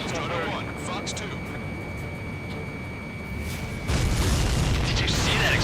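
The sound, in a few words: explosion of a supply ship in the video game Ace Combat 7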